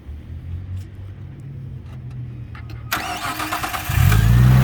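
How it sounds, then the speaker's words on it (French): A Nissan Skyline R34 GT-T cranks briefly and then fires up, settling into a loud, close, steady engine rumble after a quieter stretch of background noise. "Et ça démarre au quart de tour en plus."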